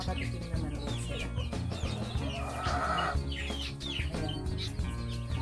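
Chickens and chicks on a farm cluck and cheep in a busy, overlapping chorus, with steady close clucking and frequent high peeps throughout.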